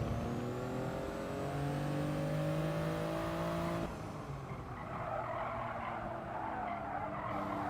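A race car in the GT Sport video game skids as it understeers, tires squealing in long sweeping tones over a revving engine. The squeal cuts off midway and leaves steady engine and road noise.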